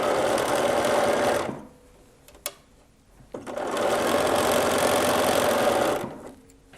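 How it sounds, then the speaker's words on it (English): A sewing machine runs in two steady, loud bursts while sewing the bodice seam of a slip, with a short quiet gap and a click between them. "So we're sewing bodice"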